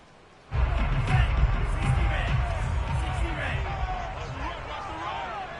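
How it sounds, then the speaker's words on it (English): Stadium crowd noise in an American football video game, Colts versus Titans, a steady roar of shouting and murmur that swells after a sudden start and then slowly eases, with no clear speech. "Plenty of shouts from this crowd as they watch the replay."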